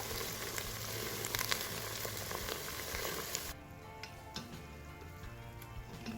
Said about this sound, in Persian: روی حرارت میذارم مقداری روغن برای تفت دادنش.